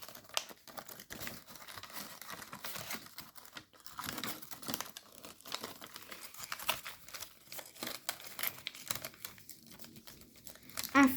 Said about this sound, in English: Going to mountain fold along these creases, and then we're going to fold, making new creases for this to collapse on